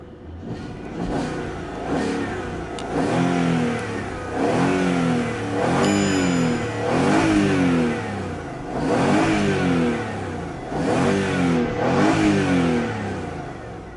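A 2008 Land Rover Range Rover engine runs and is revved repeatedly, each rev rising and falling in a steady cycle of about five pulls, loud and close with no talking.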